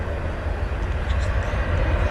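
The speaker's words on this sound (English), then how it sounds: "A plane's coming that way." An airplane near Charlotte airport makes a low, rumbling drone under nearby voices.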